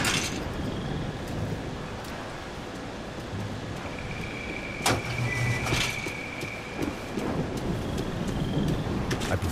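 Stormy weather in the video game Max Payne 3, a steady rumbling wash like rain and distant thunder with a sharp crackling burst of lightning midway, loud and continuous without talk.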